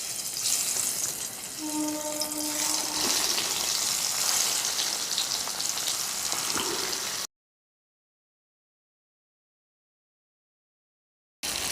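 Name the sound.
snake gourd pieces frying in hot oil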